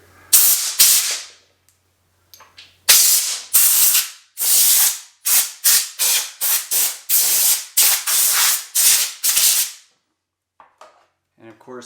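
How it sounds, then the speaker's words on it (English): A portable air compressor blows out a Peloton bike: a dozen loud, close bursts of rushing air, each a second or less, fired in a quick irregular series after two longer blasts, with quiet gaps between. "So I'm going to blow it all out with my compressor."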